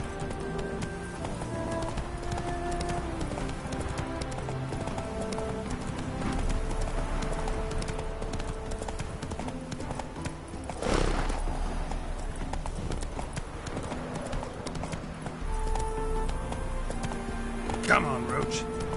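A horse gallops in The Witcher 3 video game, with a fast, continuous clip-clop of hooves running throughout, mixed with game music and ambience and occasional shouts.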